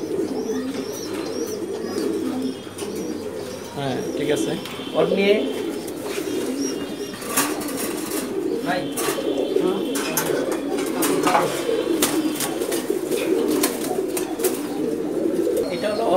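Racing pigeons coo repeatedly inside a breeding loft, soft throaty calls overlapping throughout with occasional wing flutters, while someone talks close by.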